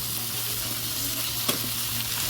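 Whole cumin seeds and ginger-garlic paste sizzle steadily in a pan over a clay stove, a continuous close frying hiss with one brief sharper crackle partway through.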